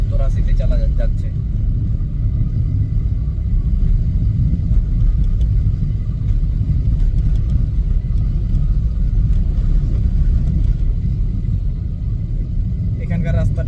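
A Kia Picanto drives along a road at steady speed, a continuous loud low rumble of engine and tire noise heard from inside the cabin for the whole stretch.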